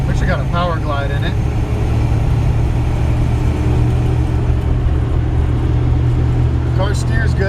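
Steady low engine rumble from a 1958 Chevrolet Biscayne with a 305 and Powerglide automatic as it drives along, constant and close, with a voice speaking over it at times.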